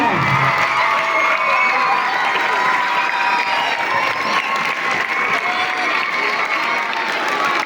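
A school crowd gives steady applause to welcome a guest, with dense continuous clapping mixed with children's shouts and cheers for several seconds.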